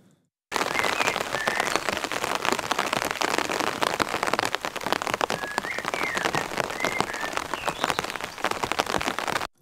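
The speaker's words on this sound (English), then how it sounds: "it's quite heavy rain, as you can hear" Heavy rain drums on an umbrella overhead, starting abruptly and continuing as a dense, close, crackling patter of countless drops at a steady loud level.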